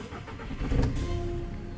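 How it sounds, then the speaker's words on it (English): A VW Jetta engine turns over and catches, a short low crank rising into a steady idle, fairly quiet and close with no voices. "You want to start the car."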